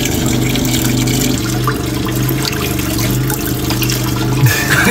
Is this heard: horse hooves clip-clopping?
no